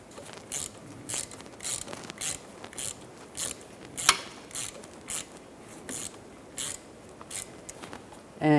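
Ratchet clicking as the wheel speed sensor bolt is driven into a Mini Cooper hub, a quick even series of close, crisp metallic bursts repeating about twice a second, with no talking.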